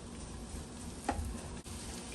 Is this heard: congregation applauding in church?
no